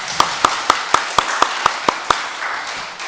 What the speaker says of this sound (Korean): 박수 한번 해주겠습니다